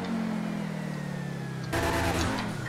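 Lamborghini Sian sports car driven in GTA 5, its engine note holding a steady, moderately loud drone before a sudden louder surge of revving partway through, with no talking.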